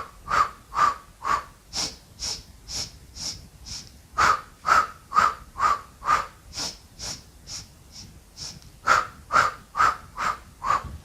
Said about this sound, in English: you're breathing in for 5 counts through the nose, breathing out for 5 counts through the mouth as the arms are pulsing